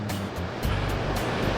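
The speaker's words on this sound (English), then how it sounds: "And it's a rough day on the ocean." Rough ocean surf on the North Carolina Outer Banks, seen from a third-story rental, rushes in a continuous loud roar with swelling breakers and some wind.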